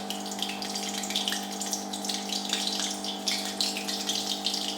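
Shrimp drop into hot oil in a pan and fry with a steady, even sizzle. A constant low hum runs underneath and no one speaks.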